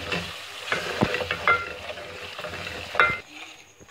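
Mutton liver fries in a pan with a steady sizzle, broken by a few sharp scrapes and clinks of a spoon stirring against the metal, heard close up and without speech.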